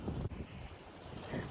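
Strong wind buffets the microphone on the Cornish coast at St Ives, a low roar that stays steady through the clip with a brief dip partway. A faint surf-like wash sits underneath.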